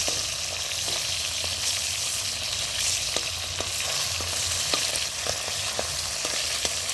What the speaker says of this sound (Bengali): তো দেখো, এক পিঠ মাছ ভাজা অলরেডি হয়ে গেছে।